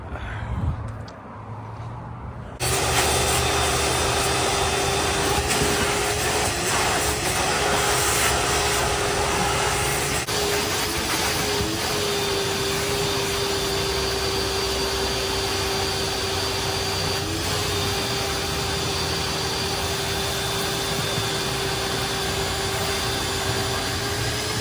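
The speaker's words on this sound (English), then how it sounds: "Just finished vacuuming out most of the gunk, most of it." Shop vacuum sucking gunk out of the bilge of a Carolina Skiff J16 boat, starting abruptly after a quiet moment and then running as a loud, steady whine for the rest of the clip.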